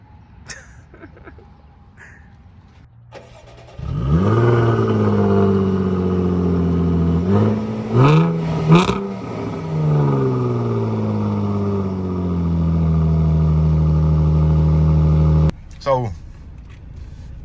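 A 2015 Jaguar F-Type with 450 hp starts up and drives off, its engine revving loudly with rising and falling pitch before settling into a steady throaty drone, then cutting off; a few brief voices are heard before the engine starts.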